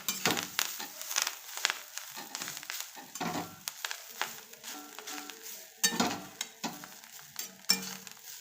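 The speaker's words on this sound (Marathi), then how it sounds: "हरभरीची भाजी बघा आवाज कसा येतो ताज्या भाजीचा" Fresh green chickpea leaves being stirred and sautéed in a pan with a little turmeric, a busy crackling sizzle broken by repeated scraping and stirring strokes, close and fairly quiet, no voices.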